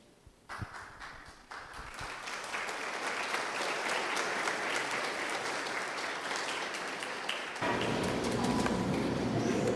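Church congregation applauding after a Bible lesson, clapping starting in scattered bursts, then swelling into sustained, fairly loud applause that grows denser near the end.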